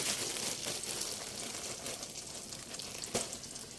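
Butter sizzling and melting in a hot pan, a steady broadband crackle and hiss close up with a brief sharper pop near the end, no voices.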